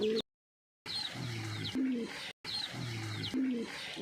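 Pet pigeons coo in low, repeated throaty calls, close by, broken by a brief silent gap near the start and another short cut midway, with faint higher chirps over the top.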